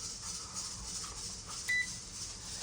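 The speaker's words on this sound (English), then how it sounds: "Now we wait for the beep and for the lights to go out" A single short, high electronic beep from a LEM Max Vac 100 vacuum sealer when sealing finishes sounds once over a faint background hum.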